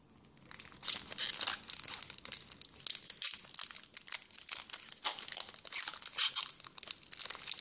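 A Pokémon ex Ruby & Sapphire booster pack being torn open, with close, crisp bursts of crinkling and tearing foil wrapper in an irregular rhythm, no talking.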